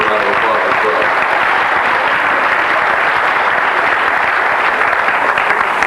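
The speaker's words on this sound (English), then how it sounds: "She deserves a round of applause as well." A large audience at a 1985 high school drill team revue gives the team's director loud, sustained applause, a thick, unbroken roar of clapping with voices mixed in.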